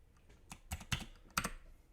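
Scattered keystrokes on a computer keyboard during a coding session, a handful of light irregular clicks spaced across two seconds, close and fairly quiet, with no voices.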